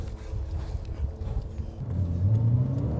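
A 2001 Porsche 986 Boxster engine idles with a low rumble, then revs up into a rising, louder growl close by.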